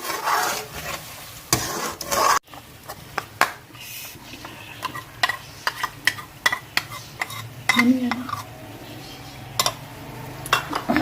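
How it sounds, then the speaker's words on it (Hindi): Whisked cream and yogurt being stirred into a green handi curry over low heat, with repeated close scraping strokes of a spoon against the pot and a soft background sizzle. "अब हम इसे मिक्स करेंगे।"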